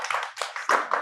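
Studio audience clapping at an Indonesian talk show, a short burst of hand claps that swells and dips across about a second, fairly close and lively with no talk over it.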